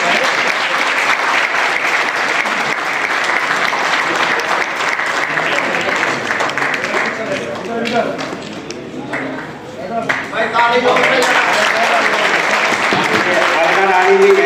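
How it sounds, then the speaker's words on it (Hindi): Sustained applause from a crowd at a BKU teachers' cell meeting, steady clapping for most of the stretch with a brief dip and then a louder burst, voices mixed in underneath. "ताली बढ़िया बजनी चाहिए"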